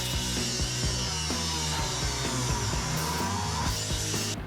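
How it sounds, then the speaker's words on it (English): Sheet metal trimmed with a power tool for shifter clearance on a K5 Blazer, a continuous loud grinding, cutting whine with a steady buzzing rhythm, close up and unbroken for several seconds, no voices. "after I trimmed this little piece for the shifter, me and Kian threw it back in"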